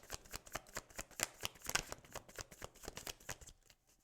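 Tarot cards are shuffled by hand in a quick run of soft, rhythmic riffling slaps, close and fairly quiet, with no voices.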